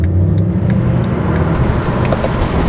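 Mercedes SLS AMG accelerating hard from a standing takeoff, a loud, steady, deep engine roar with a continuous low rumble filling the whole stretch, close and with no talking.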